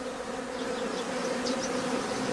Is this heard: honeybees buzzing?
yes